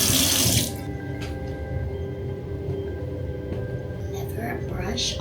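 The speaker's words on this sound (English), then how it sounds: "Now I'm gonna rinse." A bathroom sink tap runs steadily while someone rinses their face, with a louder splashing burst at the start, then a continuous moderate flow with small splashes near the end.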